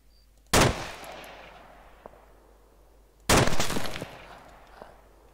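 Two loud, sharp gunshots in DayZ on the Taviana map a few seconds apart, each followed by a long echoing decay.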